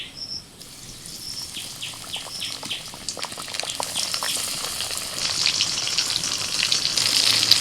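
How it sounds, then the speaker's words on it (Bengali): Pieces of lote fish frying in hot oil, a crackling sizzle that builds steadily louder with dense popping spatters, alone without speech. "তিনটে করে ভেজে নিচ্ছি আমি এপিট ওপিট উল্টে একটুখানি মুচমুচে করে ভেজে তুলে নিচ্ছি"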